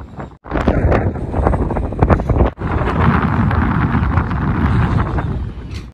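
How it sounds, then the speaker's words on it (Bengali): Strong gusting wind at the Tiger's Nest Monastery in Paro, Bhutan, roars and buffets the microphone loudly and almost without a break, dropping out for only a moment. "ওরে বাবা, এখানে তো প্রচন্ড হাওয়া।"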